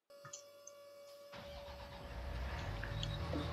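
A tractor engine in Farming Simulator 19 starts up after a quiet moment and settles into a steady, building drone, fairly faint, with no one talking.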